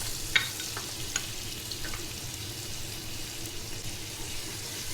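Onion frying in sunflower oil, a steady soft sizzle with faint stirring clicks near the start, heard alone without any talk.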